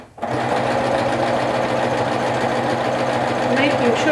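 A sewing machine stitches fabric with the left needle while sewing pockets on peg-leg trousers, a steady close whirring hum that starts after a brief pause and runs continuously, with faint background sounds.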